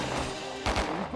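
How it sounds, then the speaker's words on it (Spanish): Gunfire in a television drama shootout, a couple of quick muffled bursts amid a dense, noisy action soundtrack, brief and partly masked. "¡Los disparos vienen de allá arriba!"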